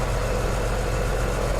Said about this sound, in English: that's the engine running now